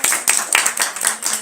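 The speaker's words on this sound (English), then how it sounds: "We didn't clap for Nirali." A small group of people clapping at a religious gathering, a short burst of uneven, fairly close handclaps with no voices.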